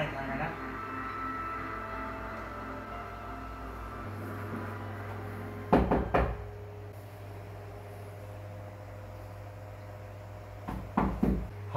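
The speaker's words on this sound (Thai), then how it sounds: "ใครมาเคาะวะ" Knocking on a door: two sharp clusters of knocks several seconds apart, each a quick series of hard raps cutting through a low steady hum.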